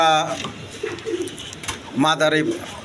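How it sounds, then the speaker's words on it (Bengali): Large Gopalganj pigeons coo in a loft on a pigeon seller's premises, a few throaty calls rising at the start and again near the end, close and fairly loud with some background chatter between them. "মাদারীপুরের না কিপুরের কয়টা না সরি গোপালগঞ্জের বড় পায়রা"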